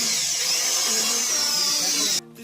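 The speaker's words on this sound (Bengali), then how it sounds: "তাহলে আগে এটা ফুটো করে নিই" A power drill bores a hole for fitting a fog light on a BMW 310 GS motorcycle, giving a close, loud, high-pitched whine that holds steady for about two seconds and then cuts off abruptly.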